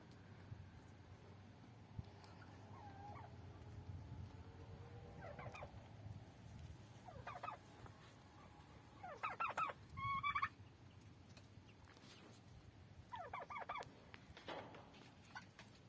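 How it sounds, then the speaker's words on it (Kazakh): Two-year-old domestic turkeys gobble in several short bursts in a farmyard, mid-distance, amid faint clucking fowl and low background noise, with no talk. "Бұлар 2 жылдық күрке тауықтар."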